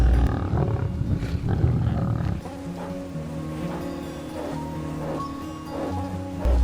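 Lions roar in the wild, a deep, rumbling series of calls over a noisy outdoor background, steady and moderately loud with no talk.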